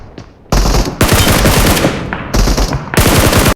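Automatic gunfire in the battle royale game BGMI (PUBG), delivered as several sharp, loud full-auto bursts separated by short pauses, close and punchy, with no talking.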